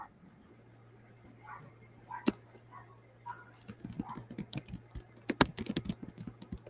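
Loud typing on a computer keyboard, the clatter growing in the second half into dense bursts of keystrokes, with faint speech-like murmurs and a steady low hum underneath.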